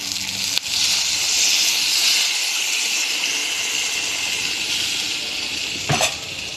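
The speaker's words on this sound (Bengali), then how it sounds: "আমি এবার দেখো জল অ্যাড করব এবার আমি ঝোল দিয়ে দিচ্ছি" Water pours into a pan of egg curry, a loud steady hissing gush that lasts several seconds, close up, ending with a brief clunk near the end.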